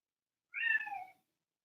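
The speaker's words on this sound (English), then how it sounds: "Oh, there's the kitty." A cat gives a single clear meow, moderately close, in an otherwise silent room.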